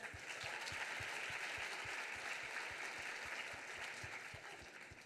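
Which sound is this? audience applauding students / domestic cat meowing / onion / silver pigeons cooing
audience applauding students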